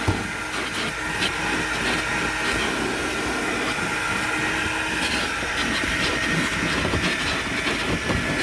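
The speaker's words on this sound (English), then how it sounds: "now I'm going to use my Desiderio as a vacuum" A Vapor Clean Desiderio Plus steam cleaner, used as a vacuum, roars with a continuous loud airy hiss while it cleans the interior of a car, steady throughout and with no speech.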